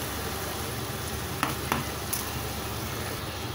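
Soaked jeeraga samba rice goes into a pot of hot oil for mushroom biryani and is stirred, giving a steady sizzle with a couple of brief scraping knocks from the spoon.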